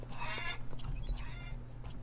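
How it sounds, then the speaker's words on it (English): Chickens cluck and squawk in the Farmer's Dynasty farming video game, several quick overlapping calls close by over a low steady background hum. "Yep, she's feeding the chickens."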